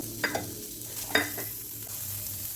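Chopped onions frying lightly in a spoon of oil in a kadai on the stove, a soft steady sizzle with a few spoon scrapes and taps, quiet and close with no talk.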